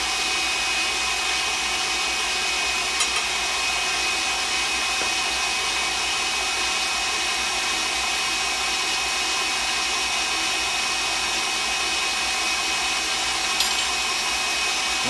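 An electric mixer whips egg whites with cream of tartar for an old-school lemon souffle, a loud constant whir that holds steady without a break.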